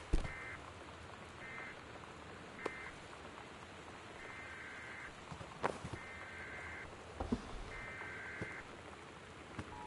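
Steady rain patters on a surface nearby, a continuous hiss with scattered louder drops and knocks, while faint repeated electronic beeps sound intermittently in the background.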